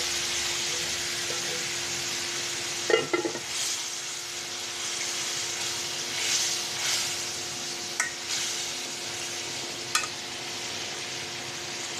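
Pieces of silver carp drop into spiced masala boiling in a pan, giving a few soft splashes and bursts of sizzle over a steady bubbling hiss, with no talking.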